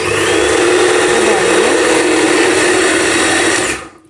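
A small kitchen food processor whirs loudly and continuously while chopping apple pieces with the skin on, a dense motor whine that runs steadily for several seconds, then cuts off abruptly at the end.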